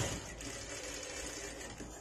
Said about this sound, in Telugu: తిరగేసి దీని పైన కుట్ అనేది వేసేసుకుందాం